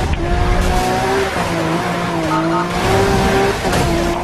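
Street racing cars roar in Need For Speed Rivals, loud engines revving and shifting pitch with tires squealing, steady and close throughout.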